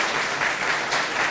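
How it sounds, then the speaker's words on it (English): Steady applause from a crowd at a legislative update meeting, a dense wash of clapping that holds at an even loudness for a second or so. "let's give one more round of applause to Oconee and Altamaha EMC."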